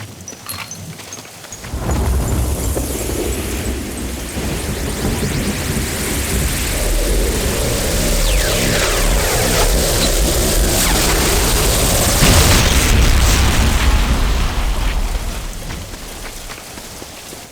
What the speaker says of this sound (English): Once the beacon is set, retreat to a safe distance to avoid damage from the ion cannon blast.